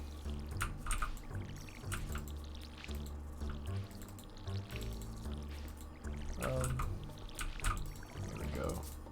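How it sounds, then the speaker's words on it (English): Crops watered with a watering can in the Stardew Valley farming game, repeated short pouring and splashing effects under steady background music, with a voice talking intermittently. "I'll just water them."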